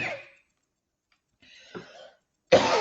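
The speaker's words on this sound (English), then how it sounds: "Excuse my coughs." A few short coughs and throat-clearing sounds come in separate bursts, close and fairly loud, with near-silence between them.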